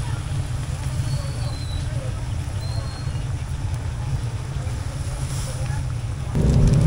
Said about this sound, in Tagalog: madaming tunog ng motor na naririnig